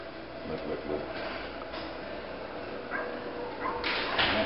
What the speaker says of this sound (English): There's something in there she wouldn't be barking at.